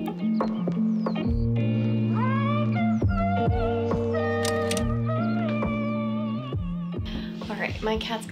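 A pet cat meows repeatedly up close, drawn-out tonal cries rising and falling over about eight seconds, mixed with a voice in the room.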